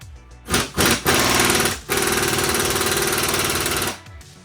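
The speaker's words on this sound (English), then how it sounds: "You want to be really schooled with your impact when you're working with aluminum stuff." An air impact wrench loose on AC compressor bolts of a 2002 GMC Envoy, close and loud: two short hammering bursts, then a long sustained rattling run of about two seconds.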